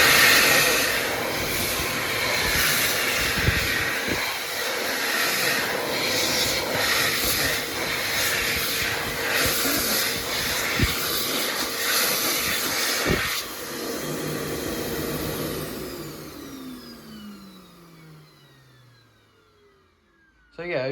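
A Mitsubishi Jet Towel hand dryer blasts on high power with a loud, steady rushing hiss of air for most of the run, then winds down with a falling whine into near silence before a brief noise at the end.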